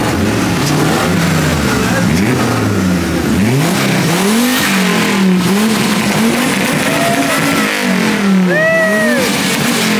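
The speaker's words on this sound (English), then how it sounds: "Rev it up, bro." A Porsche engine revs loudly and repeatedly in rising and falling bursts, sitting close and steady over a constant background, with people nearby talking and cheering between the revs.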